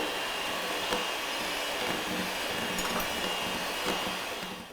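Electric hand mixer creaming coconut oil, molasses and sugars together in a bowl for buckwheat citrus ginger cookies, a steady close whirring drone that runs without a break and trails off at the very end.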